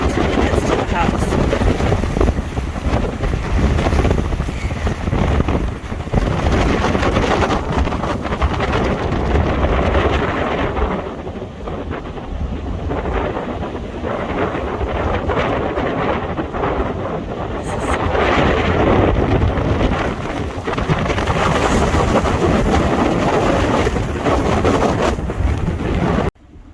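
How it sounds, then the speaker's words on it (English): Cold wind blows snow sideways across an open hillside near a house, a loud continuous roar buffeting the microphone with gusty swells and dips for nearly the whole stretch. "you can see how that wind is blowing the snow almost straight from left to right until it gets to the house"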